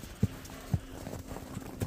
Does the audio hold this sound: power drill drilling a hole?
no